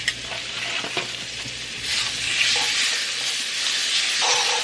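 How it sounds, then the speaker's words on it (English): Onions saute in a hot pan as the first step of a gravy, giving a steady, close frying sizzle with occasional stirring scrapes and a louder burst of hissing partway through. "So I'm going to put in my onions and saute them"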